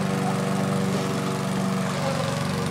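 A lawn mower engine runs steadily and loudly up close, a continuous rough drone with no pauses.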